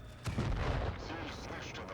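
A tank cannon firing in the mobile tank game WoT Blitz, a single heavy booming shot near the start with a rumbling tail, followed by lingering battle noise.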